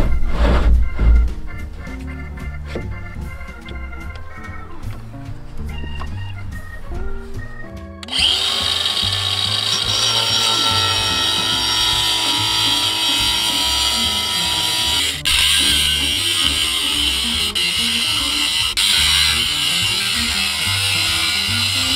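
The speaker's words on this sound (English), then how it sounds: "so that this pipe doesn't roll on me when I'm cutting it with the angle grinder" An angle grinder cutting a clamped steel pipe for a Kubota BX snowblower attachment. After some quieter clattering, it starts a loud, sustained high-pitched whine and grinds continuously up close.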